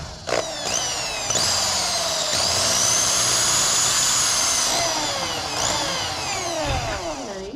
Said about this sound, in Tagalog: so butasan na natin. Barena ka ngayon.